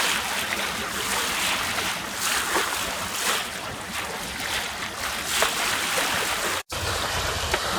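A sailboat cuts across open water near Airlie Beach, a steady rush of wind and hull wash with soft slaps of waves, broad and continuous with one brief dropout near the end and no voices.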